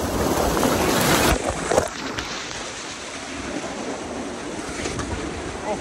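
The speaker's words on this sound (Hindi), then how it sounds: "ये है झरना।" Loud, steady rush of falling water fills the scene, roaring close by with a brief louder burst near the start and no talking.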